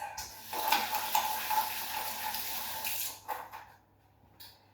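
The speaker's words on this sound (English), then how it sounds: "Just washing hands." Hands rinsed under a running kitchen tap, a steady splashing water stream for about three seconds before it shuts off and fades to near silence.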